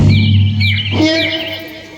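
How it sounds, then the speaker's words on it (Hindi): A koel and other birds sing in short, bright, repeated chirps and trills over a steady low drone, close and clear. "इन कोयल की आवाज को हमें थोड़ा सुनने दीजिए। ये चिड़ियों की आवाज"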